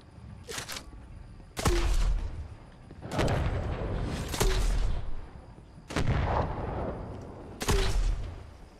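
Shotgun blasts in Fortnite, with five or six loud, booming shots spaced roughly a second or more apart, close and clear.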